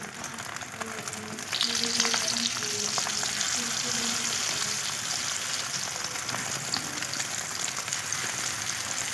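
A potato and rice dish fries in a pot, a dense hiss that swells after the first seconds, with faint stirring scrapes and a distant hum early on.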